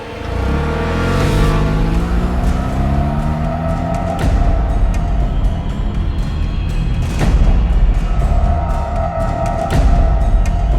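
A car engine starts and pulls away, revving up as it accelerates and settling into a steady drive, with booming low rumble throughout and over a music bed, as an audio drama effect.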